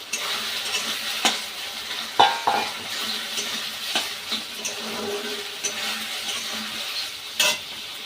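Chopped tomato goes into a pan with ginger-garlic paste and sizzles steadily while it is stirred, and occasional sharp knocks of a utensil against the pan punctuate the frying.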